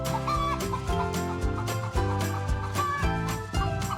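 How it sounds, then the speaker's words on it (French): A laying hen cackles after laying an egg, a close, loud run of repeated rhythmic clucks and squawks with no talk over it. "elle va pousser un cri pour dire qu'elle a pondu"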